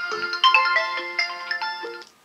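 A phone ringtone plays a bright, melodic electronic chime of quick rising and falling notes, close and clear with no talking, before it cuts off.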